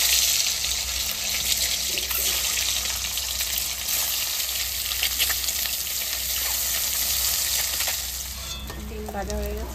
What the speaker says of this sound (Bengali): এবার ডিম ভাজার জন্য তেল দিয়ে দেবো।